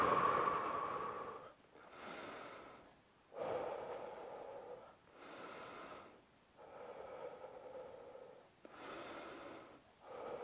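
Heavy rhythmic breathing during a one-minute rest in a home fat-loss workout, about six deep inhale-exhale cycles close to the mic, each breath a long airy rush.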